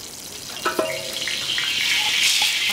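Oil hits a hot tawa before chicken is fried, a few soft thumps and splashes giving way to a steadily building, close, bright sizzle that keeps spreading and stays without voices.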